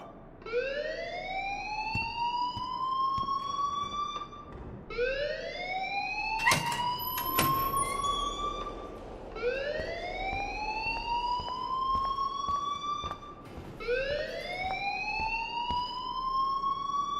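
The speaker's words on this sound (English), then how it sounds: "please turn off that alarm since that's your job" Electronic alarm in Life is Strange, repeated rising whoop-like sweeps of about four seconds each, loud and continuous, with a couple of sharp clanks partway through.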